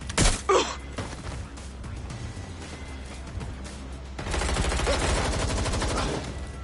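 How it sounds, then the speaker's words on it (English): Gunfire in a PS4 video game. A few sharp shots come first, then a long stretch of quieter game sound, then a dense run of rapid automatic fire. "Kids opening fire. Let's get real. Someone's shooting."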